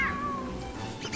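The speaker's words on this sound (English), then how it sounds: "What's this cat doing?" Cat meowing in the video game Don't Starve, a single drawn-out, falling meow heard close and clear over faint background game sounds.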